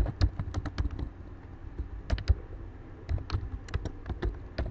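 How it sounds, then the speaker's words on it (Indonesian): Fingers typing on a computer keyboard, quick bursts of close, crisp key clicks separated by short pauses, with no voices. "kita ketikkan artis dan nama albumnya"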